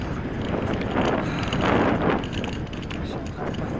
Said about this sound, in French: Le vent il est en train de changer.